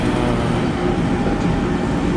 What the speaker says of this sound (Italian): sono su un treno